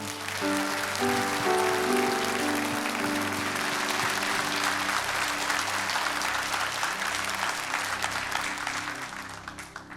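A church congregation at a Sunday service in Irvine gives warm applause welcoming a pastor to the front; dense, sustained clapping from a large crowd runs for about ten seconds over lingering sustained music tones, tapering slightly toward the end.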